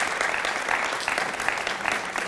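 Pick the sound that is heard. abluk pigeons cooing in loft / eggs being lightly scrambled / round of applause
round of applause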